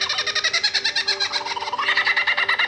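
A lyrebird sings a rapid, repetitive series of bright, pulsing notes, loud and close, shifting its pattern partway through like a mimicked call.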